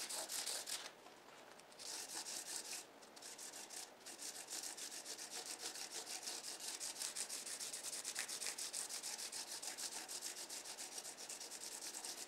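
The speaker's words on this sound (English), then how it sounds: "when I am doing sanding like this" Sandpaper rubbing steadily over the wooden fretboard of a handmade cigar box guitar, a continuous close scratchy rasp with a brief pause near the start and no talking.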